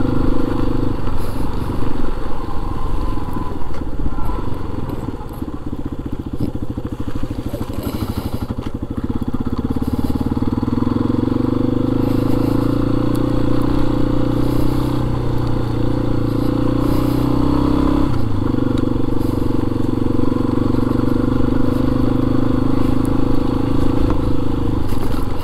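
Yamaha XT250 motorcycle ridden on a quiet test road, its single-cylinder engine droning steadily and loudly close up, pitch rising and falling through gear changes, with wind buffeting and no talk.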